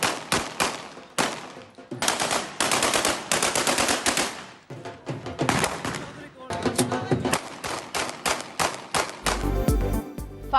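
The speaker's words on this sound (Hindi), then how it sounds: "गोलियों की तड़तड़ाहट से पूरे इलाके में खौफ फैल गया" Automatic gunfire at a wedding celebration, long rapid bursts of loud shots separated by short gaps, dense and continuous, with a brief muffled thump at the end.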